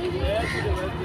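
Evening crowd gathered for the Jubilee Park light show in Jamshedpur, a brief wash of mingled chatter and murmuring voices at moderate distance.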